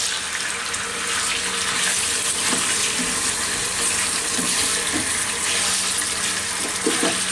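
Cut and washed chicken pieces fry in hot oil in a pan, giving a continuous loud, even hiss of sizzling with small crackles throughout.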